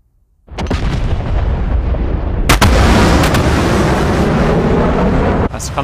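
B-1B Lancer bombs exploding in a video game, a sudden loud rumbling barrage of blasts that rolls on for several seconds with sharp cracks, close and dominant, after brief quiet.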